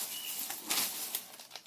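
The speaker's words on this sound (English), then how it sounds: "I have another bird in there going crazy." A pet bird flaps and scrambles around indoors in a short run of soft, uneven fluttering bursts, faint and with no talking.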